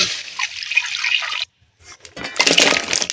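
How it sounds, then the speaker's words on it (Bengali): Water poured into a karai set on a stove, a rushing splashy pour that stops, then a second burst of splashing and trickling up close. "এবার কড়াটা চাপিয়ে দিয়েছি, দিয়ে দেব জল।"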